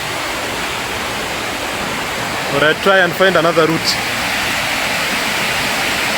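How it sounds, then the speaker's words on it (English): Steady rushing water from a river below a village waterfall, a continuous broadband roar at close range, with someone speaking briefly over it midway. "We are now very close to the river. Look, here's the river now."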